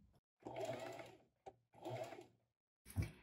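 Sewing machine stitching a seam with a 1 cm margin on a knife-style pocket, two sustained whirring runs of stitching separated by pauses, then a short final burst, close and clear.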